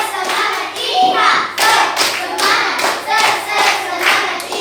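A group of children in a classroom lesson clap a loud, rhythmic spirit cheer in repeated short bursts with brief pauses between them, their voices faintly mixed in.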